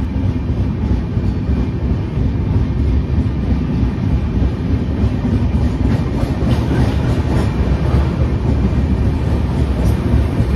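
The 12814 Steel Express between Tatanagar and Howrah runs along the rails with a loud, steady rumble and rhythmic clatter of wheels, heard from close by with some wind buffeting.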